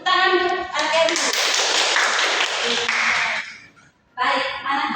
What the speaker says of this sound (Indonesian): tepuk tangan untuk anak Ibu